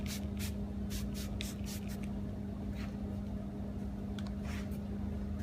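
A spray nozzle mists dip dissolver in repeated short hissing bursts over a steady low hum, close by and fairly quiet, with no talking.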